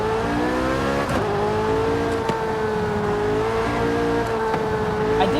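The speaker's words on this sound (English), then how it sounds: "It should sound like a flat plane crank." Video game car engine with a flat-plane crankshaft, revving steadily and loudly with a bright, harmonic-rich tone that wavers slightly in pitch, heard alone throughout with no talk.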